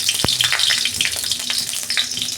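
A bay leaf drops into hot oil in a wok and sizzles loudly and steadily, with a dense, crackling fry and a few sharper pops, close up and without any voices.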